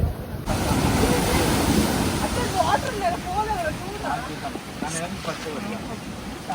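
Rising tide washing up the beach at Neil Island, a continuous broad roar of surf and wind, with voices talking and calling over it.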